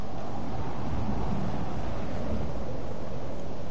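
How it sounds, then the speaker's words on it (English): Steady wind blowing through the open landscape of the video game Vane: a soft, continuous broadband rush at a low, even level, with no distinct gusts and no voices. "It sounds a bit windy."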